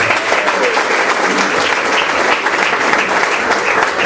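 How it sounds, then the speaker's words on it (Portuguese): Loud, continuous applause from a crowd at a political gathering, dense and even for the whole four seconds, with faint voices underneath. "pedir a vocês também que possam dar a si mesmo uma salva de palmas para cada um dos que aqui estão"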